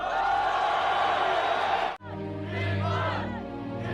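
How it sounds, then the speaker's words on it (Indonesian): A Chinese crowd roaring in victory at a fighting match: a dense, loud mass of shouting voices that cuts off abruptly, then swells again into sustained cheering and whooping. "diiringi dengan sorakan kemenangan dari rakyat China"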